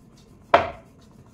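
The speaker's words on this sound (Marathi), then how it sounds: "जेवढं बारीक करता येईल तेवढं बारीक करून घ्यायचे।" A single sharp knife chop on a board while finely cutting ingredients for a spicy horse gram dish, close and crisp, with a quick decay and quiet around it.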